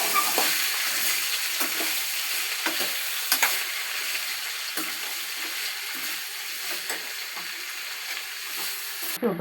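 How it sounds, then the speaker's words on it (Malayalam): Beans and a chopped vegetable mix stir-fry in a pan, a continuous hiss of sizzling oil with repeated spatula scrapes and taps at an uneven pace, close and fairly loud. "എല്ലാം കൂടെ അരിഞ്ഞ് കൂട്ടി വെച്ചിരിക്കുന്ന മിക്സ് നമുക്ക് ബീൻസ് ഇട്ട് കൊടുക്കാം. നമുക്ക് നന്നായിട്ട്"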